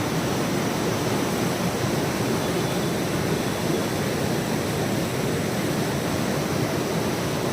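A powerful river surges at full pressure in a dense, steady roar of rushing water, loud and close throughout with no voices over it.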